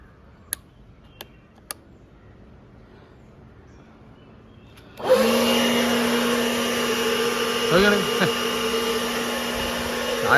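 A leaf blower switched up to speed 5: after a few faint clicks and near-silence, a loud steady high-pitched whine and roar starts abruptly and holds, with slight pitch wavers, close and with no talk.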